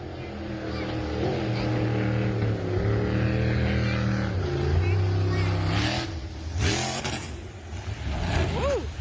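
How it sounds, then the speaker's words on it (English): A racing boat roars around a narrow river bend and loses control, its engine pitch rising and falling loudly and continuously, with sharp splashing bursts near the end and voices reacting underneath. "That's when a boat flew around the bend and lost control in a narrow gap."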